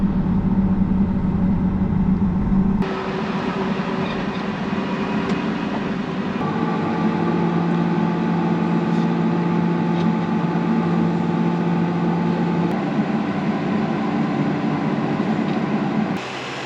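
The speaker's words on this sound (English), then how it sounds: "runs smooth like a brand new tractor, so I'm gonna put it in the shed" A repaired tractor engine runs smooth and steady in a shop, a continuous loud hum that shifts pitch slightly a few seconds in and then holds an even drone to the end.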